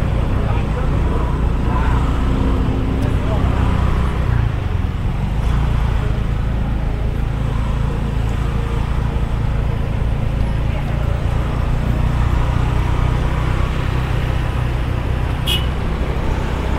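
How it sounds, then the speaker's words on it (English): Steady, dense traffic jam noise fills Ubud town center, with idling engines and motorbikes rumbling close and constantly for the whole span. "Look at the traffic jam here"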